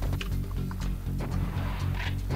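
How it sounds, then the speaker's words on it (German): Horse hooves clip-clop in Serious Sam HD: The First Encounter, a quiet, steady run of hoof beats under a low droning game background, with a few sharper knocks scattered through. "Ich höre schon wieder Pferde."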